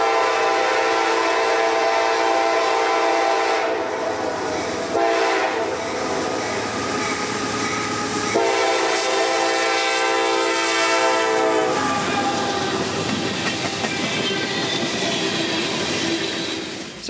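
Freight train M603 out of Waycross for Winston passes on the S-Line railway, a loud continuous rumble of wagons rolling by with wheel squeal and a sustained horn tone.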